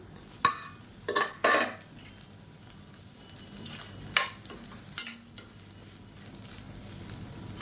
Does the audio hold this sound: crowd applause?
no